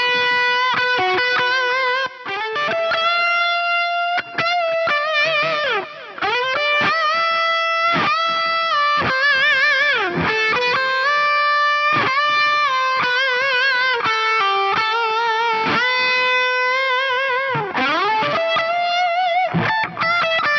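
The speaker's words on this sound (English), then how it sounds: "Maybe let's kick in a little bit of the distortion." A distorted electric guitar tone from a Mooer GE200 Pro with a Klon-style overdrive plays a continuous, sustained riff, gritty and loud, with sliding notes and no voices.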